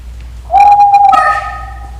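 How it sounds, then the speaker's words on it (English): A shrill, sustained owl shriek sound effect cues a stage performance of Shakespeare's Macbeth in a church. One long steady cry rises into a brighter, wavering second call, loud and close, with no voices over it. "It was the owl that shrieked, the fatal bellman which gives the sternest good night."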